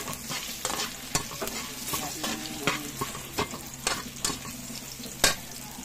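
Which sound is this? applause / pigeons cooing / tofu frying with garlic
tofu frying with garlic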